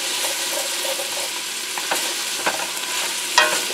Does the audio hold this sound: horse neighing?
no